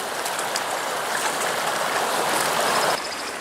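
A river flows in a steady broadband rush of moving water, close and continuous, briefly softening in the last moment, with no voices.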